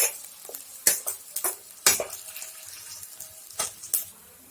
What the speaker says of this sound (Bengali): টমেটোটা দিয়ে দেব। ভালো করে ভেজে নেব